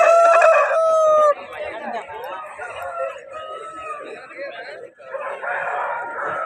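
A heavy-bodied three-year-old fighting rooster crows loudly and close by at a busy Vijayawada rooster market ahead of Sankranti, a single long call followed by market chatter and background voices.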